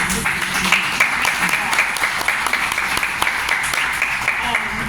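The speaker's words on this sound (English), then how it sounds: "Miss Louder, another round of applause for this one right here." An audience at a poetry night claps warmly, a steady round of applause with some talk over it.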